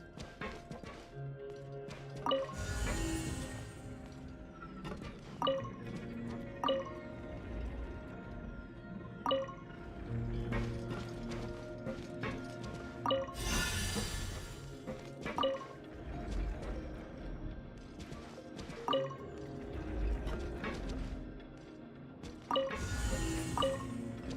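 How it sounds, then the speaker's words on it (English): Water surges upward after a mechanism is triggered in Genshin Impact during Wriothesley's story quest: a steady liquid rush with repeated drips and splashy plops recurring at an uneven rhythm, moderately close and without voices. "The water level's gone way up!"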